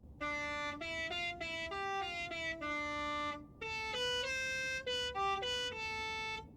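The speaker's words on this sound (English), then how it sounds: "We have the damper moat and the Halo car horn" A melodic car horn in the Forza Horizon 4 racing game, the Halo horn, plays a run of bright sustained tones in two short phrases, loud and clean with no voices.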